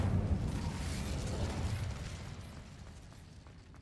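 Incendio fire spell cast in Hogwarts Legacy, a loud whooshing burst of flame that rumbles and then fades out over a few seconds, with no talking.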